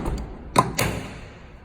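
A pressed metal side compartment drawer on a Pro Trade series unit slides and shuts flush, giving a short scrape followed by a sharp single knock, close and alone.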